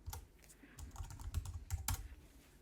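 Quick keystrokes on a computer keyboard as a terminal command is entered, a brisk run of close clicks and taps over a couple of seconds.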